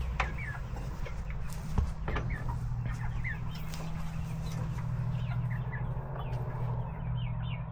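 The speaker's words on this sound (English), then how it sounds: "The chickens want to come out?" Chickens cluck softly and intermittently nearby over a low steady hum, with a brief thump partway through and no talking.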